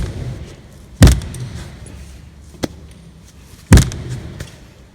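Hand striking the body panel of an Elio SAM electric vehicle, giving two solid, close thuds about three seconds apart with a lighter tap between them.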